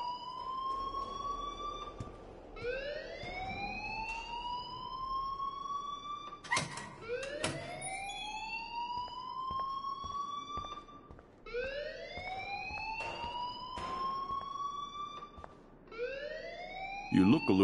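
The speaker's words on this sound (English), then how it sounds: "please turn off that alarm" A rising, repeating electronic alarm wails in the video game Life Is Strange, sweeping upward again and again in a steady cycle, loud and continuous with occasional sharp clicks over it.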